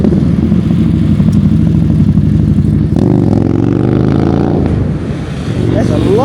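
A BMW motorcycle passes along a city street, its engine revving loud and close amid steady traffic noise, with a mid-pitched drone that swells and then fades as the bike moves by.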